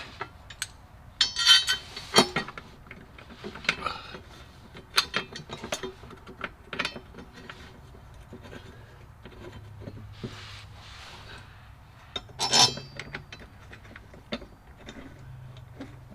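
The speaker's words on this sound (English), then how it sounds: "Start a few bolts here so I can stop holding it." Bolts on a Cadillac CTS transmission mount being started with a ratchet: irregular bursts of close clicking and tool clatter separated by quiet gaps.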